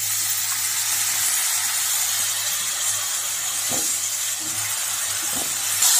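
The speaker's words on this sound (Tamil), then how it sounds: "இப்ப கத்திரிக்காவை நல்லா வதக்கிக்கங்க." Eggplant frying in peanut oil in a pan for a ginger-garlic tamarind curry: a loud, steady oily hiss with a couple of dull stirring knocks.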